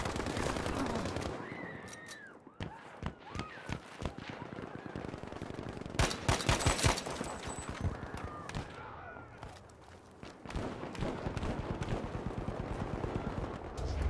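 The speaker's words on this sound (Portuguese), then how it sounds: "Eu estou-lhe a dar tiros na cabeça com uma carabina e o gajo não morre." Carbine gunfire in the Battlefield V video game, with rapid bursts and single cracks of shots scattered throughout over a dense battle din, loudest in a cluster midway, mixed with distant explosions and game chatter.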